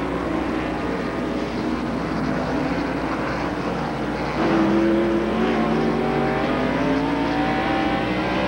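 Race cars roar around the Sonoma road course in a 1991 stock car race, a dense, sustained engine drone with rising pitch sweeps as a car accelerates hard, loud and continuous with no talk.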